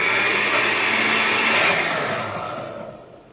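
A blender whirs loudly, mixing a salad sauce of carrot and mayonnaise seasoned with salt and oregano. The steady motor roar holds for about two seconds, then winds down and fades.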